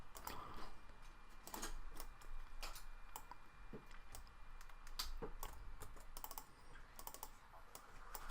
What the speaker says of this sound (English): we're just going to type out coffee shop